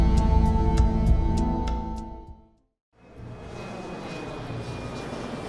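Passenger jet airliner cruising high above the sea, a steady loud engine drone that drops briefly to silence before a softer continuous roar resumes.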